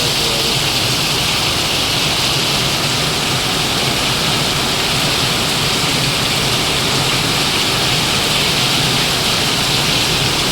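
Torrential rain pouring without a break, a dense, loud, close hiss of water drumming on surfaces that holds steady from start to finish with no voices.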